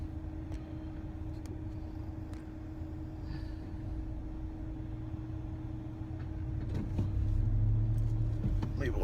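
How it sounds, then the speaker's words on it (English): A car passes on a town road in Colorado City, Arizona, a faint approaching rumble that swells toward the end over a low steady hum. "there's a car driving by"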